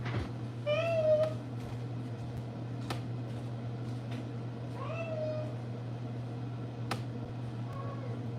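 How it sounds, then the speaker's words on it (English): A frightened cat meows during a thunderstorm, giving two or three plaintive, drawn-out cries close by over a steady low hum, with a few sharp clicks between them. "My cat's freaking out."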